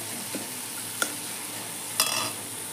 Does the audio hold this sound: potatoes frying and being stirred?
yes